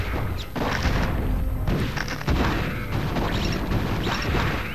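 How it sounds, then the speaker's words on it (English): Explosions in the StarCraft video game crash and boom in quick succession, a dense run of loud blasts and thuds filling the stretch without a break. "Owned explosions."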